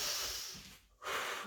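Heavy breathing during an advanced core workout of slow mountain climbers: a long, close exhale, a short pause, then another forceful breath.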